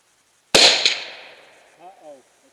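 A single sharp, loud AR-15 rifle shot in 5.45x39mm cracks at an outdoor range aimed at a steel plate, with a faint follow-up impact and a decaying echo, then someone speaks briefly.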